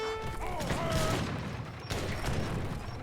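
Mortar fire in a real-time strategy battle game, a dense volley of booming shots and mechanical clatter that rolls on for a few seconds, fairly loud and close, with a brief whistling tone near the start.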